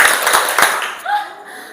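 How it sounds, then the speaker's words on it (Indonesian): Students in a class clap in counted patterns, with a few quick claps up close at the start, followed by a voice speaking. "tepuk 1, tepuk 3"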